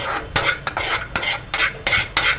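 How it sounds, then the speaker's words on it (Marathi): Almonds are stirred in hot ghee in a pan, with a series of sharp scraping and rattling strokes at an irregular rhythm and only a faint sizzle underneath. "तुपामध्ये भाजून घेत आहे हलकसर बदाम छानपैकी दोन मिनटं ते तुपामध्ये भाजून घेते"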